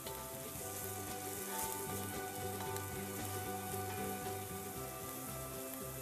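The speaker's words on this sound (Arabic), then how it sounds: "ونخليه لين شوي البصل يتحمر" Onions frying in oil with cardamom, cloves and cinnamon, a steady soft sizzle with faint crackles under a low tonal background hum.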